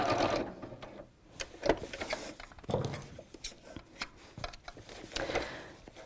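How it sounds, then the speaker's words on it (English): Sewing machine running a straight stitch line across the fabric of a pleated bag, its fast mechanical patter coming in short bursts and pauses, close and fairly loud with no talk. "So I'll just do one stitch line straight across."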